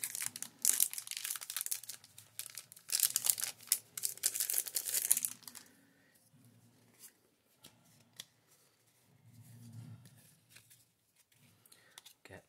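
Pokemon TCG Brilliant Stars booster packs are cut open with scissors, giving bursts of crinkly foil snipping and crumpling up close for about five seconds, then quieter rustling and handling of cards.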